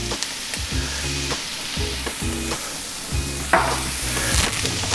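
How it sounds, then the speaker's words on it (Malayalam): Sliced onions with salt frying in a pan for a Kerala pepper crab roast, a steady close sizzle broken by repeated scraping stir strokes in an uneven rhythm, with no talking. "സവാള ഒരു ബ്രൗൺ നിറം ആകുന്നത്, ലൈറ്റ് ബ്രൗൺ നിറമാകുന്നവരെ ഒന്ന് ഇളക്കി കൊടുക്കാം"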